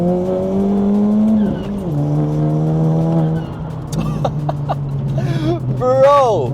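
Big-turbo Volkswagen Scirocco 1.4 TSI with a stage 3+ remap pulls hard in second gear, engine note climbing loud and close, then shifting and revving again with a squeal near the end; someone talks over it.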